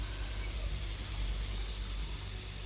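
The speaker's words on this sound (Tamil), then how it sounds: "தவாவை சூடு பண்ணி அதில் இப்போ நம்ம மிக்ஸ் பண்ணி வச்சுருக்க சிக்கனை போடுறோம்" Boneless chicken for fajitas frying on a hot tawa, a steady close hiss and sizzle that runs unbroken and fairly loud for the whole moment, with no voices over it.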